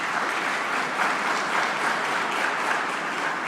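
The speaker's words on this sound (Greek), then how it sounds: "Ένα θερμό χειροκρότημα." A forum audience on workplace mental health breaks into warm, even applause, a thick continuous wash of clapping from a large crowd heard close and steady.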